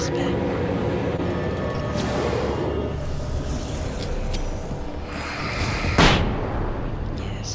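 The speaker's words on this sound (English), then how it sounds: "the flashbang instantly killed those 3 guys" A flashbang goes off in Alan Wake Remastered as one sharp, loud burst late in the clip, standing out above a background of game noise and a talking voice.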